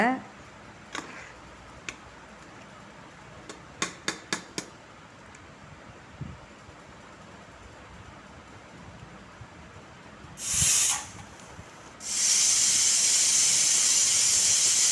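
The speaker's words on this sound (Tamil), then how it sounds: "இப்போ வந்து நம்ம குக்கர் மூடி போட்டு விட்டுடலாங்க" After a few soft clicks and taps, a pressure cooker cooking mutton biryani lets out a brief burst of steam, then a loud, sustained hiss that continues steadily.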